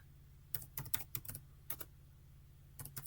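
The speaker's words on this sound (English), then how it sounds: "I'm going to type in" Computer keyboard typing: several short clusters of crisp, close key clicks in irregular bursts, separated by quiet pauses, with a low steady hum underneath.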